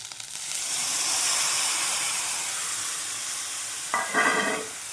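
Spice paste mixed with water hits a hot pan while cooking a bottle gourd stem and bata fish dish, giving a steady close hiss and sizzle, with a brief louder burst of stirring near the end.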